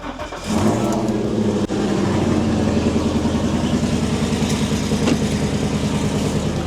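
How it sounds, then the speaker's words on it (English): A pickup truck engine turns over and settles into a steady, close, rumbling idle that runs on evenly. "I am turning on the truck so we don't kill my battery"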